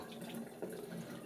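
Water running from a tap while developed slide film is washed, a steady close splashing flow throughout the brief moment.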